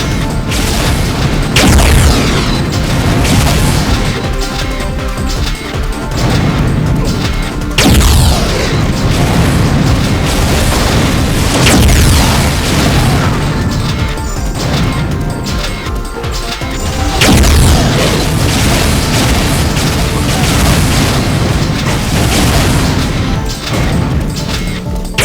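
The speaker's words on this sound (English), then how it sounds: "Oh no, enemies with dispersion pistols. Whatever shall I do?" Dispersion pistol shots and explosions in the Unreal multiplayer game, a dense, loud, continuous barrage of blasts, crashes and booms with sharp impacts recurring every few seconds throughout, no talk.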